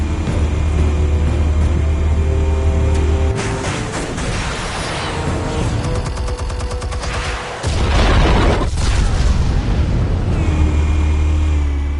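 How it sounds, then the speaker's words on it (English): Explosives detonating in the video game Batman: The Telltale Series, a loud booming blast with rumbling low end amid continuous game sound effects and background noise. "Explosives armed. Fire when ready."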